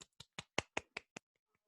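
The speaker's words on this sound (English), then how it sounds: "Now I'm a slow clap." A lecturer's slow clap in a lecture hall: seven sharp, evenly spaced claps about a fifth of a second apart, close and crisp, followed by a couple of faint taps and silence.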